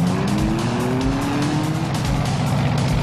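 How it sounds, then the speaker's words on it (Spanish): Race car engines roar continuously at a rural racetrack, loud and near, with rising and falling engine tones and some tire squeal layered throughout. "Cada domingo que desde el pueblo se escucha el ruido de motores,"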